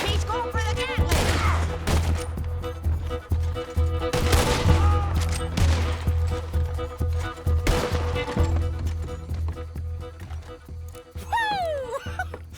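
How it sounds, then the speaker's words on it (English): Rapid gunfire from a Gatling gun in the video game Red Dead Redemption 2, loud bursts of shots spread across a busy battle mix with other impacts and clatter throughout. "That one, he's going for the Gatling."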